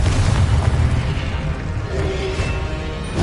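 A Confringo spell explosion in Hogwarts Legacy: a dense, sustained booming roar with heavy low rumble and crackling bursts, loud and continuous throughout, with no speech.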